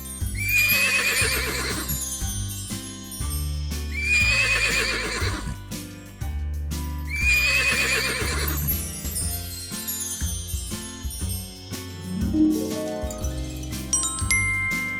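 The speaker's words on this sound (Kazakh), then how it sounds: "Жылқы." A horse gives three loud, shrill whinnies in a row, each about two seconds long with a trembling, descending tail, then lets out a lower nicker, all heard close up.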